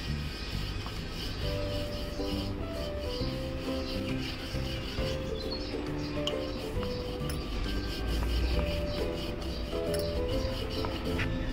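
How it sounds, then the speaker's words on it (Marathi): A rolling pin rubs and rasps steadily back and forth over puran poli dough dusted with rice flour on a board, a soft continuous scraping with occasional light clinks. "पोळी आपली छान लाटून झालेली आहे"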